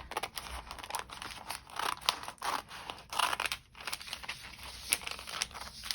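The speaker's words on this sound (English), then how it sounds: "I'm just going to trim fairly close here and leaving both layers of the paper on." Scissors snip steadily through two layers of roofing paper with sticky backing, giving a close series of crisp cuts and crinkles with no talk.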